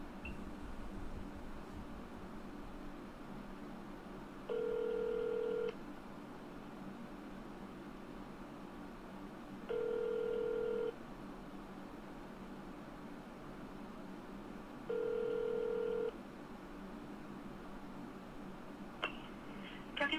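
A telephone line on hold while calling Poison Control carries a faint steady hiss, broken by three identical electronic tones about five seconds apart, each lasting roughly a second.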